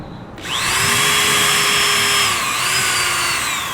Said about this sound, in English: I'm going to put a couple of securing screws in.